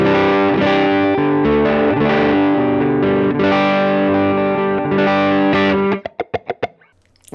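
An electric guitar through a Strymon Iridium amp simulator set for a driven, distorted Fender amp tone plays loud chords and riffs for about six seconds, ending with a few sharp muted stabs and then near silence.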